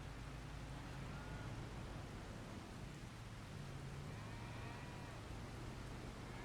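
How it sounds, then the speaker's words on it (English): Rain falling in Farming Simulator 25, a steady broadband hiss of downpour that stays even and unbroken throughout, with a faint low rumble underneath and no talking. "I'm bored of this bloody rain."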